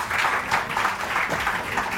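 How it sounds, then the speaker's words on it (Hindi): A studio audience on a Pakistani morning TV show claps for Akhtar Bhai, giving a short, continuous burst of applause with a steady, fairly close texture and no clear voices. "अख्तर भाई को तालियां।"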